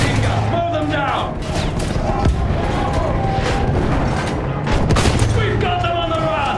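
Machine gun fire and booming explosions fill a Battlefield 1 trench battle, dense bursts and blasts mixed with shouting voices.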